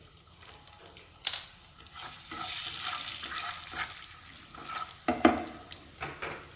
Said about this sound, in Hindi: सबसे पहले हम इसमें राई ऐड करेंगे और इसके साथ ही हम इसमें हल्दी पाउडर ऐड कर देंगे।